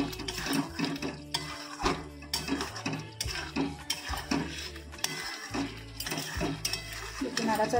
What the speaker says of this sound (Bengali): নাড়াচাড়া করে নামিয়ে দেবো।